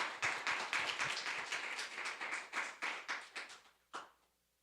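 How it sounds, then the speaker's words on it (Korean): A church congregation claps to welcome the preacher, a steady run of crisp, fairly close handclaps that thin out and stop after a few seconds. "전도사님 나오실 때 우리 환영의 박수 한번 보내주시면 감사하겠습니다."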